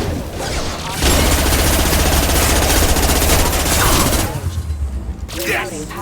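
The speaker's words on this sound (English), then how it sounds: "Firing a high-impact shot!" Heavy gunfire from a Mass Effect 2 battle aboard a ship, a dense sustained burst of shots running for several seconds, loud and close, with game voices speaking near the end.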